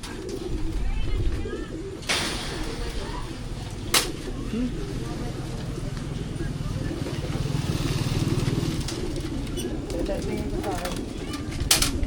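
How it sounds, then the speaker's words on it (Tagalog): Racing pigeons at a basketing for a training toss coo softly in a steady, low murmur, with people talking nearby and occasional sharp knocks. "Ito yung mga kalapatids natin."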